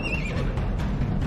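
Brief horse neigh during a boss fight in Alice Madness Returns, a short high whinny at the start over busy game sound and music.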